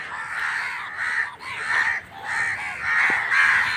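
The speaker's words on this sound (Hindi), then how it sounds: "देख सकते हैं आप इसके गर्दन पे वाइट है, मतलब ग्रे है, और ये है कौवा।" Loud, repeated caws from a grey-necked crow come in several harsh bursts one after another, with no talk over them.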